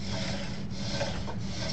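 A wooden pump drill spins and bores into wood, giving a continuous close rasping, rubbing whir with slight rhythmic surges as the spindle reverses.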